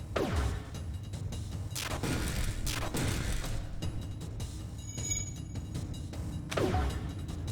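Pike beam weapons firing in the space strategy game FTL: several loud sweeping blasts with falling pitch, spaced a second or two apart, layered over a dense mechanical game background with brief impact crashes.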